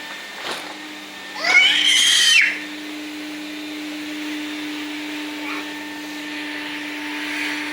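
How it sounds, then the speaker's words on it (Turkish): A vacuum cleaner runs with a faint, steady hum throughout, while a cat gives a brief meow near the start. "Nerede süpürge makinesi?"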